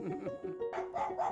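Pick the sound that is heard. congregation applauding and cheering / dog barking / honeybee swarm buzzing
dog barking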